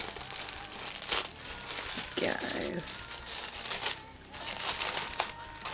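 Glittery tissue paper crinkles and rustles close by as a package is unboxed, in bursts of crumpling and tearing, while someone talks throughout.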